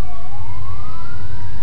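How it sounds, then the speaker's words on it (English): Emergency vehicle sirens wail steadily, pitch sliding slowly upward over a low rumble of background noise, loud and continuous throughout. "you can probably hear the sirens right now"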